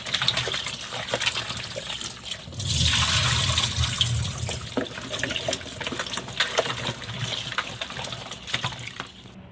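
Onion, tomato and chilli washed under running tap water, a gushing stream that rises strongly after a few seconds and continues with splashing and handling.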